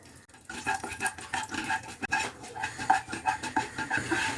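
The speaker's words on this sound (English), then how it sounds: "we'll roast this Chana Dal till it turns golden in color" Chana dal roasting in melted ghee on a low flame produces a close, rhythmic stirring scrape with soft clinks of a metal spoon against the pan over a gentle sizzle.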